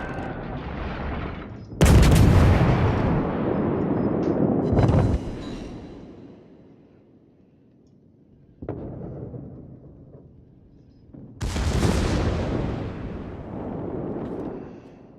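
Battleship main guns firing in the naval combat game World of Warships, heavy booming salvos at about two, five and twelve seconds, each rolling off into a long rumbling decay with quieter gaps between.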